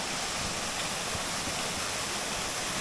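Rushing water at a waterfall in Sagada, a steady, loud broadband wash with no pauses and no voices.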